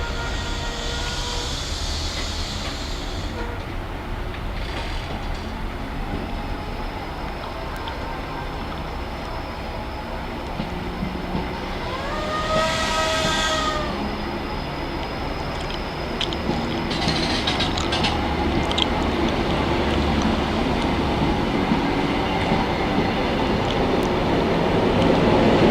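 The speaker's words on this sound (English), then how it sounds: "the 1444 service to Norwich I should add, departing from Ipswich Station, having been delayed by a trespass incident" Class 90 locomotive 90007 pulls a train out of Ipswich Station bound for Norwich, a loud continuous rumble with a rising whine and a brief tonal horn-like sound midway, steady throughout.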